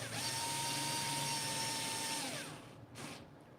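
Power drill whirring steadily while tightening screws on a Growatt SPF 5000TL HVM inverter during repair, a sustained high whine that winds down near the end followed by a brief clunk.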